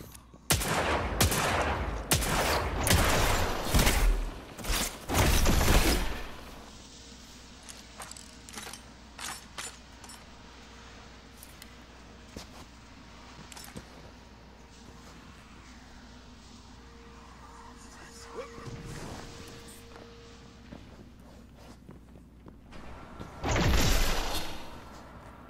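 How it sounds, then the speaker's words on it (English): Rapid gunshots and jars smashing in a video game, dense loud bursts at the start, then scattered sharp shots and clinks over a low hum, with a final heavy burst near the end. "I hope I'm not the only person that comes in here just to shoot the jars."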